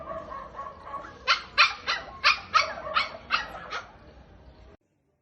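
A male puppy barks in a quick run of about eight sharp, high yaps, fairly close and loud, after which the sound cuts off to silence.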